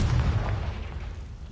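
In a Harry Potter video game, the Confringo blasting spell sets off a deep, booming explosion that rolls out and fades over about a second, loud and close, with no speech.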